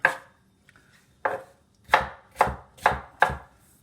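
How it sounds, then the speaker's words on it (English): Peppers and onions are roughly chopped with a knife on a board, six firm, evenly spaced thuds with a faint tap between, close up and with no talking. "we're just going to give this a quick chop"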